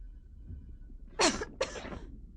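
Two sharp, explosive coughs in quick succession from a person with flu clearing debris from the airways, the first burst strongest, heard close and alone against a quiet background.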